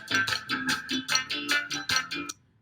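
A repeating beat of punchy hits in a quick, even rhythm, about ten strikes with no other instruments, stopping abruptly.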